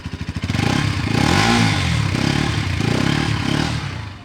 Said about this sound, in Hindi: बारी आती है इसके एग्जॉस्ट नोट सुनाने की, तो चलिए बाइक को स्टार्ट करते हैं।